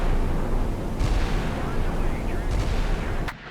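Rumbling, crackling bursts and booms of incoming anti-ship missiles being intercepted during a Baltic naval battle in Sea Power, loud and continuous with sharper hits near one, two and a half and three seconds, under a voice.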